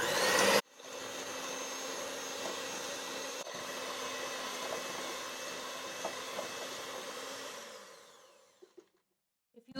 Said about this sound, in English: I have my electric whisk that I will use.